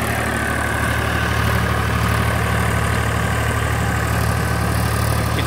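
A Massey Ferguson 245 DI tractor pulls a 7 ft, 60-blade rotavator through farm soil, its engine a loud, steady, unbroken drone with a constant low hum and no voices.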